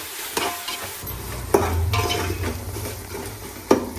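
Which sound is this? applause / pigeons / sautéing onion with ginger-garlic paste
sautéing onion with ginger-garlic paste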